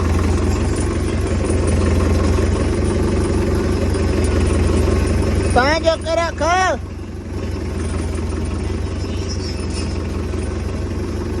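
A tractor engine idles with a steady low rumble throughout, while someone talks briefly in the middle.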